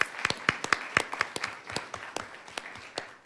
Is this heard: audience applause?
yes